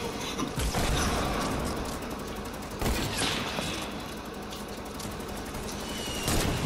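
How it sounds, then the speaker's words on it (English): Sustained rapid minigun fire rattles on in an online shooter game, a dense, continuous stream of shots with a couple of louder bursts cutting through, fairly close and without any talk. "They using mini gun."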